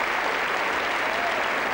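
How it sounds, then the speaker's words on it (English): Sustained applause from an arena crowd at the 1993 World Gymnastics Championships vault final, a dense, even wash of clapping filling the space without break. "smiles and applause from the current leader, Yelena Pizquin"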